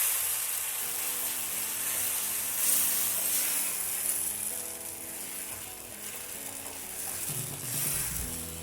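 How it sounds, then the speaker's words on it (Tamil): Tomato paste sizzles and fries in a pan for a prawn masala gravy, a continuous bright crackle with soft stirring scrapes and clinks, alone and fairly quiet. "தக்காளி சேர்த்து நல்லா ஒரு கொதி வரட்டும்."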